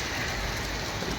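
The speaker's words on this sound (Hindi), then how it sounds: "बारिश जो है वो रुकने का नाम नहीं लेती" Heavy rain pours steadily onto a street in Srinagar, a dense, even hiss with no pauses and no voices.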